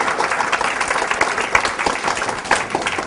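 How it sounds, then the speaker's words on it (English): A studio audience applauds loudly and continuously, with dense overlapping claps close by and no speech over them. "they are paid money to clap"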